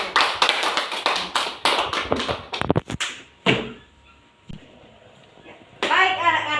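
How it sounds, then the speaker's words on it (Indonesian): Children in a classroom clap briefly for a group of classmates, a burst of quick overlapping hand taps that stops abruptly, followed by a quiet room with faint movement and a voice starting up at the end. "Oke, tepuk tangan untuk kelompok"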